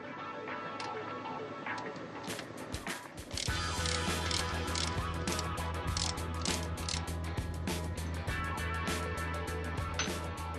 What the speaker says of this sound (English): Then take the screw out.